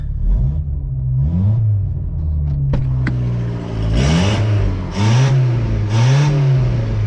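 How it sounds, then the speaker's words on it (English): A Volkswagen Golf 1.8T engine revs up several times in quick bursts, each rising whine climbing and dropping back to a close, rumbling idle. "Give her one last little rev."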